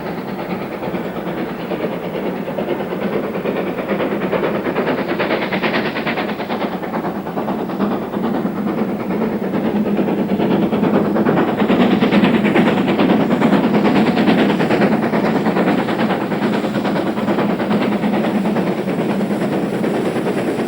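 A GWR express steam locomotive on a British Rail test run makes a loud, steady rolling rumble with hiss and a faint rhythmic clatter that swells slightly midway. No voices are heard.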